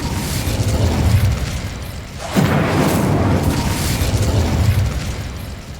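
A fiery Incendio spell cast in Hogwarts Legacy erupts as a loud, sustained roaring whoosh, with a sharp swell midway that then rumbles on steadily to the end, alone with no talk.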